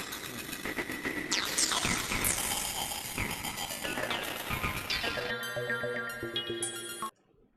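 A Roland JP-8000 synthesizer plays its Death Squad Rally preset, a dense, loud evolving pattern of bright sweeping tones and rhythmic hits that runs steadily for about seven seconds, thins into sustained notes, then cuts off abruptly, with no voices.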